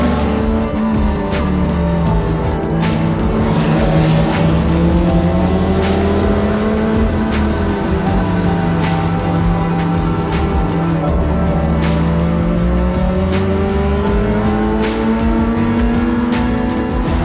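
A race car laps a circuit in a touring car race, engine note swelling and falling through corners and shifts, loud and continuous from onboard, with regular sharp ticks running through it.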